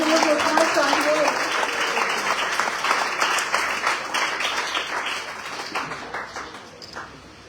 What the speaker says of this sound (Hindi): जोरदार तालियों के साथ स्वागत करें